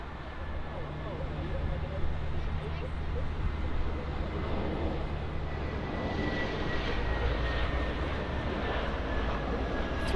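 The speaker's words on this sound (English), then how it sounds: "Got the Lufthansa on final." A Lufthansa airliner on final approach at Frankfurt Airport gives off a distant, steady jet roar that slowly swells, with faint talk in the background.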